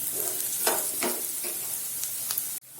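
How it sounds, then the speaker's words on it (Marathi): Mixed vegetables with turmeric being stirred in a hot pan, a steady sizzle with several distinct scraping strokes of the spoon, close and alone, ending abruptly. "आणि हळद पण छान एकजीव करून घ्या"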